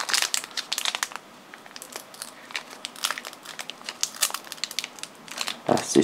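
A trading card booster pack is torn open from the bottom in a series of sharp, close crinkling and tearing bursts, the foil wrapper rustling quietly with short pauses between the pulls.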